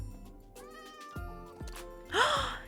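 Cat in the video game Minecraft meowing several times, drawn-out tonal mews building to a louder, higher final meow, close and clear with no talk.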